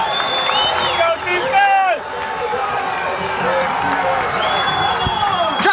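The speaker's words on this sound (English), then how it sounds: "Listen to the crowd." Crowd cheering and roaring in the stands at a 1989 Norristown versus Council Rock high school football game, a steady crowd din beneath a play-by-play announcer talking.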